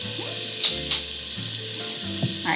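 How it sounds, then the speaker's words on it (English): Celery and garlic paste sizzling in a pot, a steady close frying hiss with a few soft stirring clicks and scrapes. "now that our celery's been simmering for about 3 to 4 minutes and starting to get translucent"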